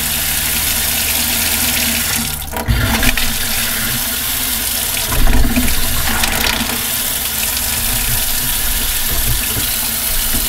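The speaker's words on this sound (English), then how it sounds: "now we're gonna turn the water back on and test for leaks" Water rushing through a repressurized RV plumbing system fed by its water pump, a loud, close, steady flow with surges and gurgles partway through, running continuously alongside a faint mechanical hum.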